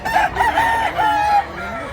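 A rooster at a Mantalungon, Cebu poultry market crows close and loud in one drawn-out call with a rising and wavering pitch, other birds faint in the background.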